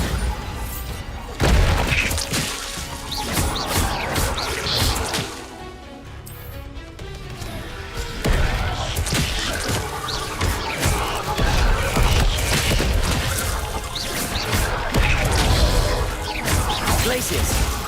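Bombarda blasting spell in Hogwarts Legacy, heard as repeated booming impacts and crashing hits through dense, loud game combat, with a brief quieter lull midway and speech mixed in.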